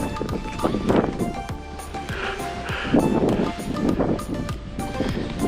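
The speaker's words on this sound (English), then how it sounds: "welcome to a very windy day here in Monastir" Strong gusty wind roars and buffets the microphone on a marina front in Monastir, Tunisia, with a broad noisy rush rising and falling throughout and occasional rattling or flapping.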